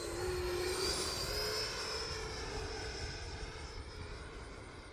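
An E-flite Viper 90mm RC jet flies at about half throttle, its ducted-fan whine sweeping across the sky, loud at first and slowly fading as it moves away.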